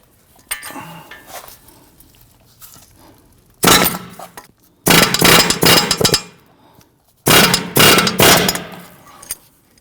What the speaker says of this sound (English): We're going to use our air hammer here to go ahead and try and drive out our ball joint.